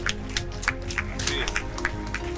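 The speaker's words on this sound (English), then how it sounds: "So please give him a big round of applause." Festival closing-ceremony audience applauding a keynote speaker: a steady wash of clapping with sharper individual claps popping out, moderately loud and close, over a low room hum.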